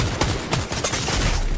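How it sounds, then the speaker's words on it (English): Gunfire in a building-focused shooter game: a loud, dense burst of rapid shots cracking repeatedly over constant background game noise, with no talk. "he's nailing a couple shots"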